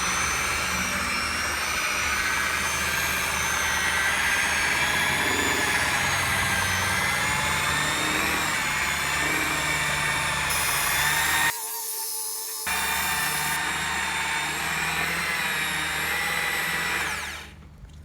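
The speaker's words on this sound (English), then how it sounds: "You want to try to hold the polisher as flat as you can." A machine polisher hums steadily on the paint of a Honda Odyssey, a loud continuous whir broken briefly near the end before it spins down and stops.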